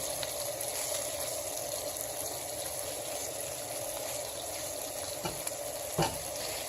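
Orange juice and Irish butter simmering in a pan, a steady soft sizzle and bubbling hiss with a faint steady hum, plus a couple of small clinks near the end.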